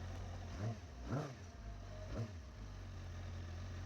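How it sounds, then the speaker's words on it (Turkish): Benda LFC 700 motorcycle with a cable throttle, blipped three times at idle: short rising revs about a second apart over a steady low engine rumble, fairly close and clear. "Sesi bakın ara gazı vereyim."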